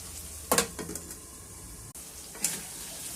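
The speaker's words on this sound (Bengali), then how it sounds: "এই যে আমাদের কচুর মুখিটা দেখেন একদম ভাজা ভাজা হয়ে যাচ্ছে, দেখছেন?" Taro corms (kochur mukhi) fry and are stirred in a spiced pan, with a soft, steady sizzle broken by a few brief scraping stirs, moderately quiet and without talk.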